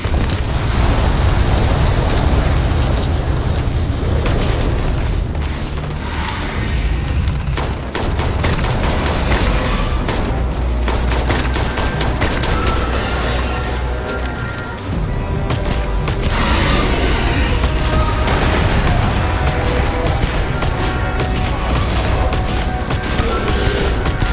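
Gunfire in the video game Starfield, sustained loud volleys of rapid shots and booming blasts in a continuous firefight with brief lulls.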